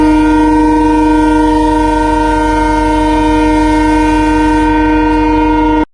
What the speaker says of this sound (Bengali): कोई ट्रेन आने वाला है ऐसा आएगा अभी तो पीछे पैसेंजर है